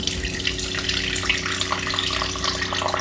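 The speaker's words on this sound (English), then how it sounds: "and so now the system has finished flushing" A WIE WF50GUS-B002 countertop reverse-osmosis water purifier flushes water, a steady, loud rush of flowing water with a constant low hum underneath, running unbroken throughout.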